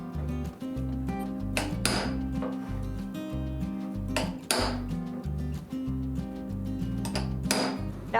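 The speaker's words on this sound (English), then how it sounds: "wanna make sure that we are starting our chisel about halfway through the line" Chisel struck repeatedly with a hammer into metal while forging Mandalorian shoulder armour, a steady run of bright metallic clinks and pings over a ringing, tonal background, with a few heavier, louder blows standing out.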